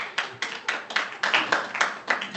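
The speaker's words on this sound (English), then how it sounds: "let's give him a round of applause" A few people at a planning commission session clap, about a dozen distinct, evenly spaced hand claps close by, with sparse, quiet room tone between them.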